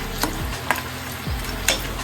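Cumin seeds frying in a pan, a soft steady sizzle with a few sharp ticks and scrapes of stirring, close and fairly quiet.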